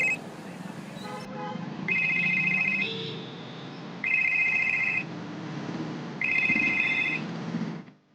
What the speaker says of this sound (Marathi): तेवढ्यात त्याला अनिकाचा फोन येतो